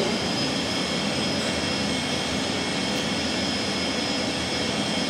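Steady, loud broadband roar of a jet engine heard from inside the cockpit of an F-16 in flight, continuous and unchanging throughout with no voices.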